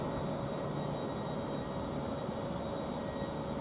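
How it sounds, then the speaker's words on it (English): An EasyJet airliner passes over Luton Airport as a steady, broad, rushing roar that holds at an even loudness throughout, with no voices. "It's an EasyJet. And that was an EasyJet."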